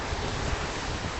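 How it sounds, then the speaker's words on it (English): Gusting wind on a cold, rainy day in lower Manhattan, a dense roaring rush of air buffeting the microphone, loud and unbroken over a short stretch. "the wind is gusting"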